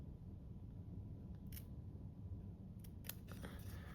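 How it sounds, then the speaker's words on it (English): Scissors snipping the very tips off pieces of paper card stock for a handmade flip flap shutter card, a few quiet crisp cuts over a steady low background hum. "So if you want to trim off the very, the very tips of it,"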